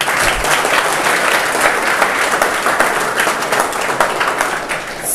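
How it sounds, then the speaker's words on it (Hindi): Loud, sustained audience applause fills the hall at an agriculture coaching institute's student event, dense steady clapping with no talk over it. "एक बार जोरदार ताली बजाओ।"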